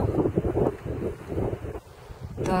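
Wind blowing across a quiet mountain meadow near a hut, a steady rushing gust that swells and eases, buffeting the microphone, with no other sounds around.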